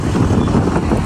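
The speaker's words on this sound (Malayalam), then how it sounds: "നല്ല കാറ്റും ഉണ്ട് കേട്ടോ." Strong wind gusts across the misty Kodaikanal hills, buffeting the microphone with a loud, close, rumbling roar for a brief moment.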